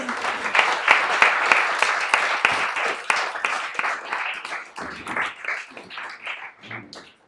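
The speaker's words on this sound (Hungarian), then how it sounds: "Tapsoljátok meg őket!" A live audience claps and applauds at the close of a club evening event, a dense, steady burst of hand claps that thins out toward the end.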